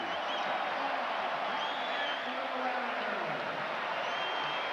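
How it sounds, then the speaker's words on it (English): A lively crowd at the 2003 McDonald's High School All American basketball game cheers and applauds steadily throughout, a dense, continuous roar of clapping and shouting with no break. "This is a crowd that's having a lot of fun here. They are very, very into it."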